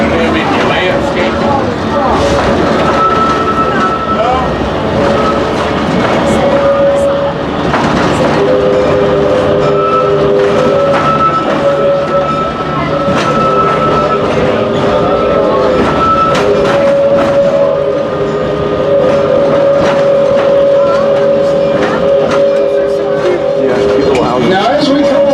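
A historic train runs on rails at Virginia City, Nevada, its steady clattering roll and squealing wheel tones continuing loud and close throughout, with a guide talking over it.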